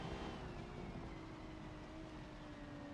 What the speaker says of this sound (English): Can hear the engine of Gabby already.